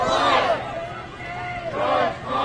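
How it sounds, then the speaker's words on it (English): Protest crowd in Minneapolis chanting George Floyd's name while marching along Portland Avenue, two rhythmic bursts of many voices shouting in unison, heard from within the moving crowd. "You hear chants of George Floyd"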